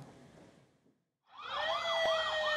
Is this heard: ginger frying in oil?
no